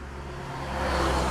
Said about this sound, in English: I'm just paying attention in this traffic.